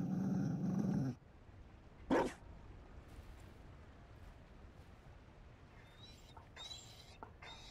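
A Mabari war dog in the video game Dragon Age: Inquisition lets out a low, rumbling growl at the start, then a single sharp bark-like burst, before the sound settles into quiet background ambience.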